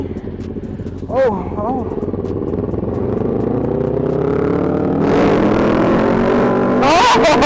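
Three 650cc motorcycles, a Kawasaki Z650, a Kawasaki Ninja 650 and a Yamaha FZ6R, rev and pull away at night, engine tones rising steadily and loudly under brief talk and exclamations.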